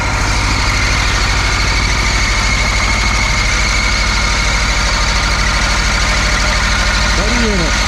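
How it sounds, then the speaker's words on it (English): Old two-cylinder Russian Polaris diesel tractor idling out in the woods, a loud, close, steady low throbbing chug with a rough rhythmic knock, faint voices beneath. "It's an old 2-cylinder diesel, an old Polaris they're called, an old Russian tractor."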